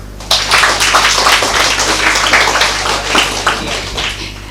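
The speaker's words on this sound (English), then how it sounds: "Please give him a clap." An audience claps for a speaker at a talk, a sharp onset followed by a sustained patter of hand claps over a faint steady hum, moderately close and without speech.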